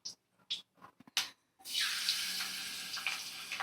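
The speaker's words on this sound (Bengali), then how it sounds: "একদম মিডিয়াম ফ্লেমে রেখে দিয়ে মাছগুলোকে ভাজছি" Fish pieces coated in salt and turmeric hit hot oil in a kadai over a medium flame. A few soft clicks come first, then a steady, close, bright sizzling hiss carries on without pause.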